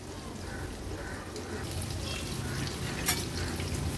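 Pieces of big pomfret fry in oil in a pan over a medium flame, giving a soft, steady sizzle with a brief sharp clink near the end.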